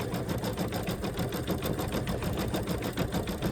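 An embroidery machine stitches a tulip design onto a towel, a steady, fast mechanical rattle with an even pulsing rhythm, close and unbroken throughout.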